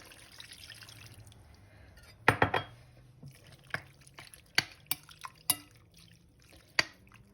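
Lime juice splashes and drips into a bowl, a short pour followed by scattered individual drops, close and quiet.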